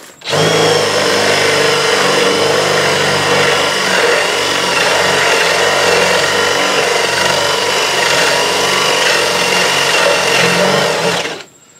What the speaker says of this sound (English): I'm boring about halfway through because that'll guarantee that I do not splinter the top edge